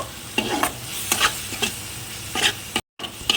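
Ground spices, including cumin powder, sauté in hot oil for a lote fish curry. A spatula scrapes and taps the pan in short bursts over a low constant sizzle, close up, with one brief silent gap.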